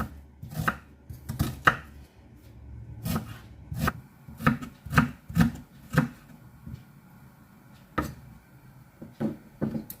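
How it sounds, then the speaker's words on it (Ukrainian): A knife chops food on a cutting board in irregular bursts of sharp, close taps, with short pauses between runs of cuts. "Нарізаємо як на засмажку."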